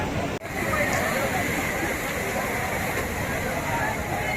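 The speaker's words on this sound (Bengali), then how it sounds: "দেখো ঢেউগুলো দেখো কত বড় বড় ঢেউ" Big sea waves breaking at Mandarmani beach on a rainy day, a loud, continuous rushing roar of surf close by, filling the whole clip with only a brief dip near the start.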